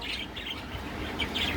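Pet birds chirp in short, bright bursts that come and go over a soft background hum, fairly faint and without any talking.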